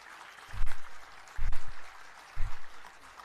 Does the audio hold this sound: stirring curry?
no